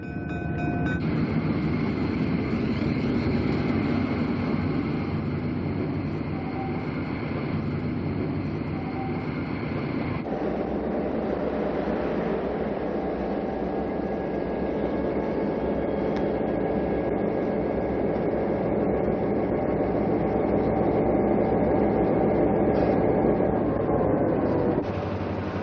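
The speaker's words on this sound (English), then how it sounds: "And the train is reassembled." A diesel train is recoupled, giving a long, loud, continuous rumble of engine and railcars with shifting tonal whines and a sharp change in texture partway through, close and unbroken, with no voices.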